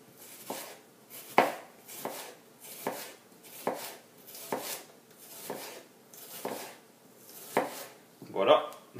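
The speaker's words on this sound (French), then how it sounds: "On va donc le couper en anneaux." A kitchen knife slicing a peeled onion into thin rings, with close, crisp cuts landing in a steady rhythm about twice a second.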